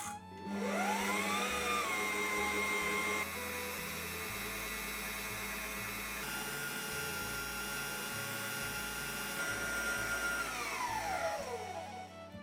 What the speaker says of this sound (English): whisk your eggs and sugar fluffy and let it take time